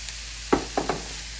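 Ground lamb browns in a pan with garlic, bay leaf and cinnamon for moussaka: a low steady hiss broken by three quick clattering stirs of a utensil, with a constant hum underneath.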